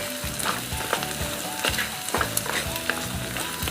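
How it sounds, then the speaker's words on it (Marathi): Fresh green peas sauté in hot oil over a medium flame for masala rice, giving a steady crackling sizzle with sharp stirring clatters at regular intervals; no one talks. "मटार तेलात व्यवस्थित असं परतून घ्यायचं आहे।"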